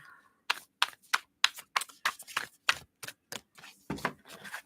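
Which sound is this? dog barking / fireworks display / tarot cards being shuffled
tarot cards being shuffled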